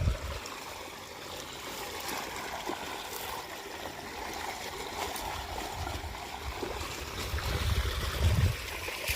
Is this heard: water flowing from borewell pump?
yes